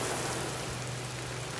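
Steady rain falls outdoors on a cloudy day, a dense, even hiss of drops hitting surfaces, moderately loud and constant throughout, with no voices.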